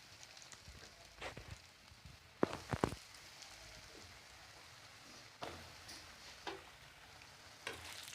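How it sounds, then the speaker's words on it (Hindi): Coated potato pieces fry in oil for chilli potato, a faint, steady low sizzle with a few soft clinks and stirring knocks. "अब हम इसको ऑयल में फ्राई करेंगे,"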